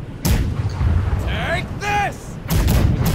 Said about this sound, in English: Right side cannons.